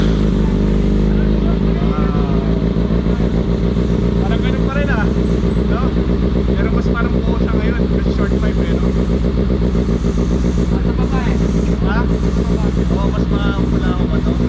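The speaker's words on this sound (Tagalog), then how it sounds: "Ang bago nating exhaust pipe M4G Plus." Loud, steady exhaust roar from a Kawasaki ZX6R motorcycle fitted with a new M4G Plus exhaust pipe, engine idling and revving up close at a muffler shop, with voices talking over it.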